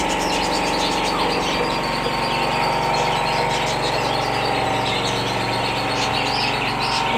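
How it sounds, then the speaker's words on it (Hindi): Pet parrots in a home aviary cage chirp and tweet continuously, a busy layered chatter of many birds fairly close, with a steady low engine-like hum underneath and no talking. "ये हमारे तोते"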